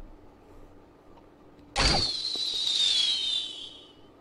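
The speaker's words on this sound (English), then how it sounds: "that what you just heard was the Archer Queen Attack Number 2" Archer Queen attack effect from the Clash Royale mobile game, starting after silence: a sudden loud whooshing burst with a bright sustained shimmering tone that slowly fades over a few seconds, alone.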